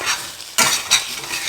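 Egg frying in a pan is stirred and mixed, a sizzling hiss broken by two sharp scraping strokes of a utensil against the pan, close and clear with no talking.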